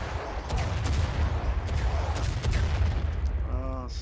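Distant artillery fire in the War of Rights video game during a 100-player fort defence battle at Harpers Ferry, Bolivar Heights: several booming blasts and crackling gunfire over a dense rumbling battle din, with a brief voice near the end.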